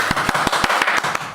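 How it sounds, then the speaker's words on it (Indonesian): A group of teachers at a school workshop claps together in a quick, even rhythm, sharp loud claps close by, with no talk over them. "tepuk tangan untuk kita."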